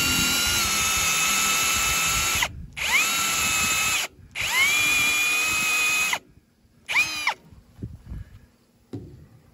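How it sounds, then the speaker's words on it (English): A power drill whines at high speed in three long bursts, drilling out original threads in a BMW M50 engine block, separated by brief pauses, followed by softer clanks and handling noises. "now I'll actually be drilling out some of the original threads"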